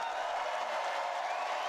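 Political rally crowd cheering and applauding in a large arena, a steady dense wash of claps and cheers heard from a distance for the whole short stretch.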